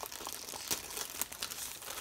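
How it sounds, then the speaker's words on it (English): Close, soft crinkling of a plastic bag while a diamond painting canvas is unpacked, continuous rustles and small crackles with no talking. "Okay, so the canvas is in a plastic bag."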